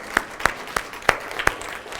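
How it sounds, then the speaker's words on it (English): A sparse handful of claps from an audience at a chamber of commerce gathering, about five separate soft claps spaced unevenly over two seconds, fairly quiet. "I do want to applaud the Prince George's Chamber."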